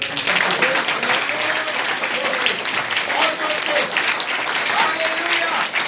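A church congregation applauding loudly at a pastor's sermon, a dense sustained wash of clapping from many hands filling the room throughout, with voices mixed in beneath.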